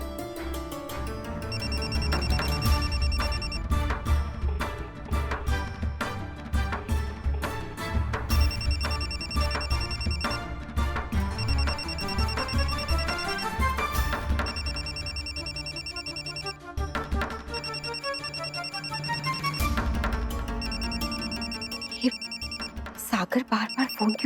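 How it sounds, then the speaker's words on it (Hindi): A telephone rings repeatedly in a Hindi television drama, its electronic ringtone pattern repeating in bursts over dramatic background music, with people talking at moments. "सागर बार बार फोन क्यों कर रहा है?"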